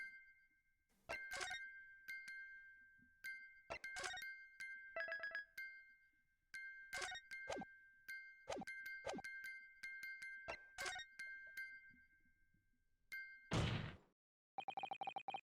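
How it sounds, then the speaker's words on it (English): A music box in the video game The Great Ace Attorney Chronicles chimes in irregular, bright ringing strikes with pauses between them, followed by a brief noisy burst and a rapid repeating ring at the end. "the sound emanating from this music box"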